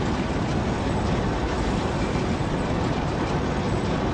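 Engine room of a running train in the video game Demo Friend - Process gives off a steady, dense mechanical roar. The droning rumble holds at an even, loud level throughout, with no breaks and no voices.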